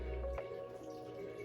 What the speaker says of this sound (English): I like the way it feels whenever I water my plants